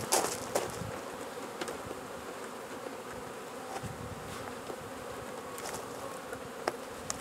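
Honey bees buzz around a beehive in Swanzey, New Hampshire, a dense, continuous droning hum close by with occasional faint knocks, steady throughout and without speech.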